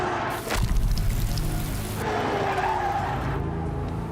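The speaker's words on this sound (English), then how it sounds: "An unexpected raindrop in Shanghai." Rain patters steadily across a Shanghai track in the F1 Clash racing game, blended with a car swishing and skidding over the wet surface. The sound is loud and fairly continuous, with a burst of noise near the start.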